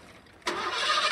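A car engine turns over and catches abruptly, then settles into a steady, loud running roar, close by and with no one speaking.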